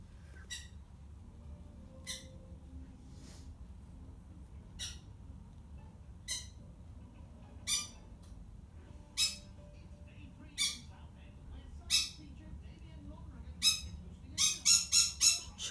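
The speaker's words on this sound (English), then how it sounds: "he normally tells me to shut up and starts squawking" A pet bird squawks in short, sharp bursts spaced a second or two apart, growing louder and quicker until a rapid cluster of calls at the end, over a quiet indoor background.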